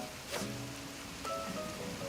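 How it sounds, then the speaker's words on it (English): Steady rain falls in the Animal Crossing video game, a dense even hiss of drops with faint tonal game sounds drifting underneath, continuous and fairly soft without any talking. "Catching a few fish in the rain."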